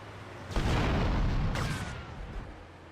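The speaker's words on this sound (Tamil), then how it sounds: "பிக் பேங் போட்டா மட்டும் ஆகுது, டேங்கர் வெடியுது." A tanker truck exploding in the video game GTA Vice City: a deep, booming blast that swells suddenly, rumbles on for about a second and a half, then fades into a lingering low roar.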